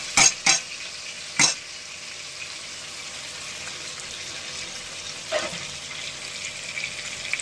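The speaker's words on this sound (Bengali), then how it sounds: "টমেটোটাকে একটু তেলের মধ্যে ভেজে ভেজে নেব।" Steady sizzle of tomato frying in oil in a pan, a constant hiss broken by a few sharp clinks of a utensil against the pan near the start and a softer scrape later, with no talking.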